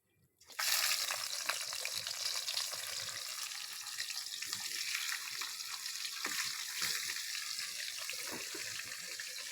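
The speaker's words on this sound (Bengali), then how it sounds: "এই মাথাগুলো ভেজে নিচ্ছি প্রথম।" Large fish heads fry in a pan with a loud, continuous bright sizzle that starts abruptly and holds steady throughout, close up, with faint crackles and no talking.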